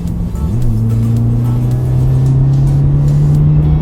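A 2016 Subaru WRX with an aftermarket axle-back exhaust idles with a low, steady exhaust drone that rises slightly in pitch as it revs gently, loud and close.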